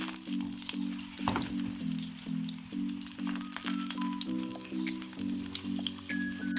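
Potatoes fry in oil in a pan for a saute dish, a steady close sizzle running throughout, with a low repeating hum tone beneath and occasional light clicks.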